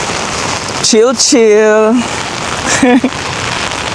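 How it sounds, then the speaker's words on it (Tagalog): Rain falls steadily on surfaces in Margosatubig, Zamboanga del Sur, a constant hiss filling the background while a voice speaks briefly over it. "So guys, naabtan tag ulan."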